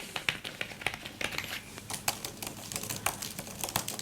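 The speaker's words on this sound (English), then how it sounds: "It has a plastic feel and sound since each individual key is covered with that nylon" Quick, light clacking of nylon-covered plastic keys being typed on an iPad keyboard, close up and fairly quiet, in uneven bursts.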